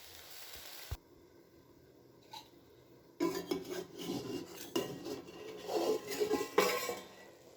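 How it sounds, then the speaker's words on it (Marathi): A metal lid set down on a cooking pot of wild vegetable sabzi, one short clink early on followed by close scraping and rattling of utensils, with no talking. "आता त्याला झाकण घालून टाकते"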